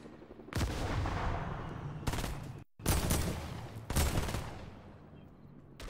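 Gunfire in the Fortnite video game comes in loud, close bursts of rapid shots, with four sustained volleys separated by brief gaps and one abrupt silence partway through.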